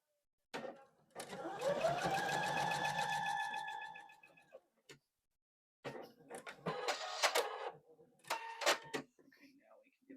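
A home sewing machine stitches quilting fabric corner to corner for a small bow, whirring steadily for about three seconds, then running again in short stop-start bursts.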